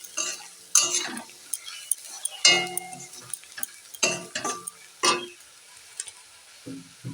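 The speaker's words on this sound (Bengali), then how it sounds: "হলুদটাকে খানিকটা ভেজে নেব আমি" Turmeric being fried with onions in a pan, with repeated scraping stirs and clinks of a utensil against the pan over a soft sizzle, close and alone.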